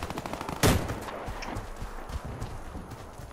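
A single loud, sharp gunshot crack rings out early, followed by faint clattering footsteps and scattered thuds in a Warface clan-war match.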